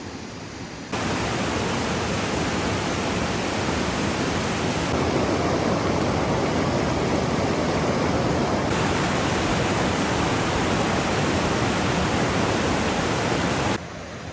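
Floodwater of Beaver Creek in Arizona rushing past in a loud, steady, roaring wash that fills the whole stretch without a break, heard from a bridge.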